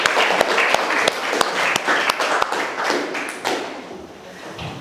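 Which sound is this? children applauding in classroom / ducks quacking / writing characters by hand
children applauding in classroom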